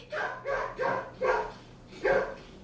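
A dog barks five times in a steady, evenly spaced series, each bark clear and fairly close, with a faint background hum and no talking.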